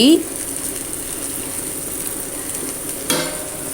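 Chopped carrot, capsicum and tomato frying in a pan for a mixed omelette, a soft steady sizzle with a brief clatter at the start and a stir-like scrape near the end.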